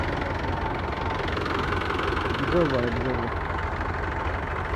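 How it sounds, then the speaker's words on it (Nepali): A tractor stuck in sand idles with a steady low engine drone running throughout, while people talk over it nearby. "ट्र्याक्टर चाहिँ यहाँ यसरी फसिरहेको छ है"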